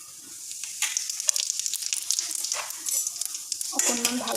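Whole cumin seeds sizzle in hot oil in a wok, a close crackling hiss with a few sharp pops and light stirring scrapes, the sizzle swelling louder near the end.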